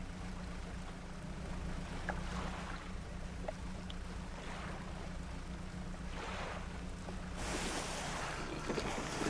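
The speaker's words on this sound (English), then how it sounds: "Some splish splashing going on back over there." Water splashing in the fishing video game Dredge, a continuous wash of waves and watery sloshing over a low engine-like hum, with a louder surge of splashing toward the end.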